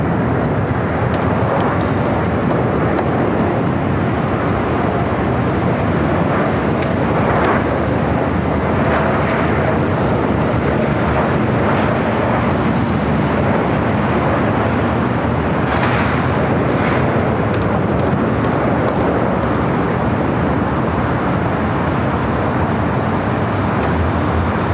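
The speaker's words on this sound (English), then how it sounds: "That's the Delta A321 Neo" A Delta Airbus A321neo airliner at LAX, heard as a loud, steady jet roar lasting throughout, with broadband rumble and faint traffic noise blending in the background.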